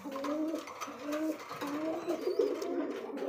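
A pair of pigeons coos softly and steadily at a large pigeon farm in Bangladesh, with low throaty rolling calls repeating through the whole stretch and faint voices in the background.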